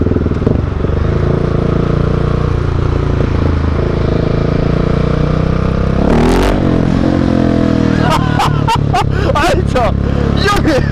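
A 2017/2018 Husqvarna 701 motorcycle, a 700 cc single fitted with a Mivv exhaust, runs loud and close with a steady engine drone, then cracks out a series of sharp throttle blips and revs near the end while voices chatter underneath.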